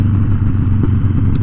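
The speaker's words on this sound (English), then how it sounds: "I am riding a Harley Davidson Sportster." Harley-Davidson Sportster Iron 1200 motorcycle being ridden, a steady low engine rumble with wind noise, loud and continuous with no talk.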